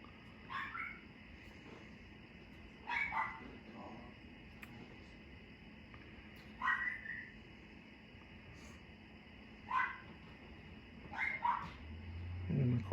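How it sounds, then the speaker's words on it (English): A dog barks indoors, with about six short, fairly faint bark bursts spaced a few seconds apart over a quiet room hum. "And of course the dog is barking."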